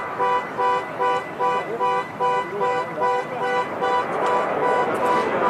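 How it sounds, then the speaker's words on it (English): A car alarm near Manchester Airport blares a repeating pattern of short tonal honks, about two pulses a second, loud and regular, and blurs into broader traffic or engine noise toward the end. "Someone's car alarm's going off."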